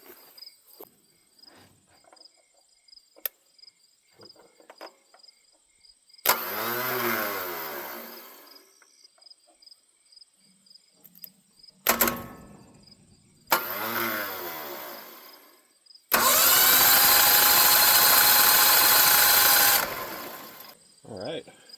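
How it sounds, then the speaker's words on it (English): A John Deere 322 lawn tractor engine being cranked over during a restoration, in several separate loud bursts of a few seconds each, with quiet gaps between them and a long final run. "turned over the motor"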